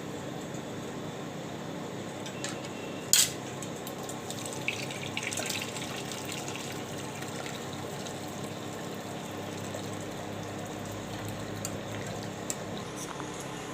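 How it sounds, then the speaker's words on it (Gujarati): Cold water is poured over curdled milk in a strainer, a soft continuous trickle and splash running steadily in the background, with a brief clatter near the start and a few small knocks. "ઉપર આપણે ટાઢું પાણી નાખી દેવાનું"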